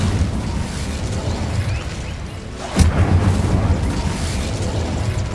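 An Incendio fire spell blasts in the Hogwarts Legacy video game, a single sharp burst midway through a dense, rumbling game soundscape.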